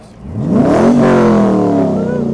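A Corvette engine revs hard during a 2012 family festival parade, the note climbing sharply and then holding a loud, steady roar close by for about two seconds.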